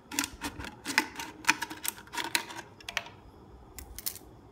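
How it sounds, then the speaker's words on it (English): Scissors snipping through a plastic water bottle, a rapid run of sharp crackly cuts with short pauses, close and dry with no talk. "First, we have to cut the water bottle like this."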